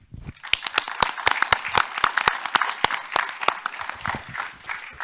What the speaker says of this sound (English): give yourself a big round of applause for coming here